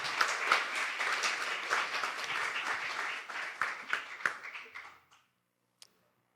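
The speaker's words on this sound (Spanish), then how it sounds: "Démosle un aplauso a Dios por eso" A church congregation at a family conference applauds, dense clapping from many hands that holds steady, then thins into scattered individual claps and stops, followed by near silence.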